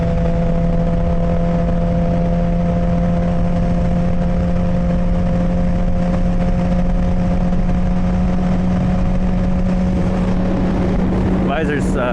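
Yamaha R6 motorcycle engine, still cold, riding through rain: a loud steady drone with a constant hum under a broad hiss of wind and wet road, continuous for the whole stretch.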